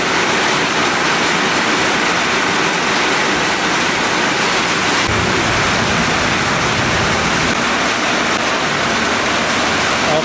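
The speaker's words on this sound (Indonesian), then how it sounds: "Cuacanya hujan gede banget habis maghrib." Heavy rain after sunset pours down in a dense, loud, unbroken roar that stays even throughout, with no clear talk above it.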